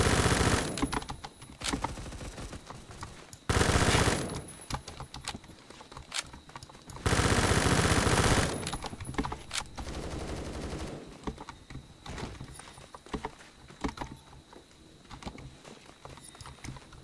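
K1A rifle fire in Phantom Forces, loud sustained automatic bursts interspersed with shorter strings of shots and quieter stretches of distant gunfire and movement.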